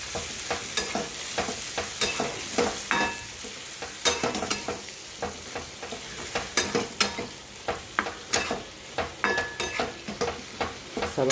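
A besan and capsicum sabji fries and is stirred in a pan. Loud, busy metal scraping and clattering strokes ride over a constant sizzle and speed into quick, regular strokes near the end, with no talking.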